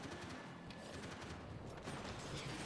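Pistol gunfire in the video game Max Payne 3, fired from cover, comes as a dense, continuous burst of loud shots layered with action game noise, with no pauses across the whole stretch.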